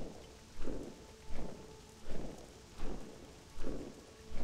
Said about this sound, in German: Regnet viel. Überall Wasser.